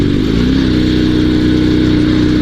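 A Dnepr two-wheel-drive sidecar motorcycle engine runs steadily in second gear on an off-road ride after a clutch failure, giving a loud, continuous mid-pitched drone with a faint rhythmic clatter and no talk.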